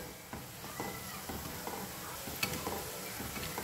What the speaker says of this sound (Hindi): प्याज ब्राउन हो रही है, 5-10 सेकंड इसे हम और फ्राई करेंगे।